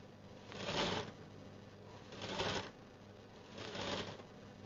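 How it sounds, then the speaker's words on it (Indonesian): A sewing machine stitches a single-line seam on a child's dress in three short whirring bursts, each lasting about half a second, separated by brief pauses and heard close without any talk. "Ni kita hanya jahit satu line je eh."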